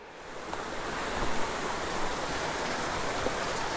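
A small miniature waterfall or spring splashes steadily outdoors, a continuous broadband rush of falling water, close and even, with no voices.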